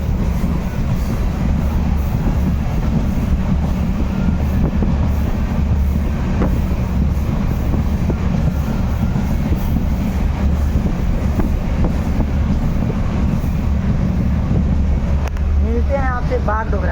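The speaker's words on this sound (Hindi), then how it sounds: "अपनी ट्रेन आ चुकी है बागडोगरा में।" Sikkim Mahananda Express passenger train rolling along rails near Bagdogra, a steady loud rumble throughout with faint speech in the background.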